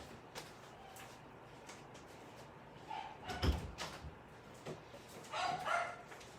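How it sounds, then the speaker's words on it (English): Two dogs bark back and forth at each other indoors. Their short, faint barks come in scattered bursts over a quiet background, with a few louder yips toward the middle and the end. "My dogs are talking to each other."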